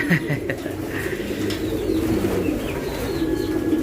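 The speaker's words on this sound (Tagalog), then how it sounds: "So, gift bird sa akin to ni Brother Perty." A racing pigeon coos nearby, a soft, low, steady cooing that runs through the whole stretch with faint background voices.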